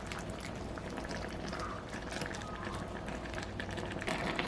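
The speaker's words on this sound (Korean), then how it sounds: "뚜껑 덮어 보글거리며 끓는 소리가 나면 약불로 줄여 5분간 끓이세요" Thick tomato sauce bubbles quietly as it boils in a covered pot, a soft, steady burbling with small pops, close and faint.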